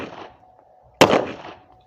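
Pistol gunshot, a single sharp loud crack after a malfunction clearance, preceded by a fainter brief burst a second earlier.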